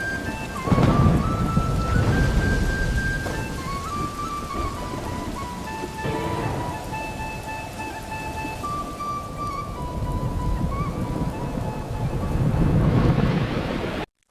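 A Kalbaishakhi thunderstorm over a mango orchard: heavy rain pours steadily while thunder rumbles loudly near the start and again near the end, with no voices.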